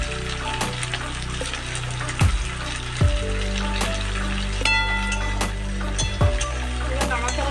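Chopped onion and capsicum sizzling in a pan for chili chicken while being stirred, with a steady frying hiss broken by a few sharp clanks of the spatula against the pan.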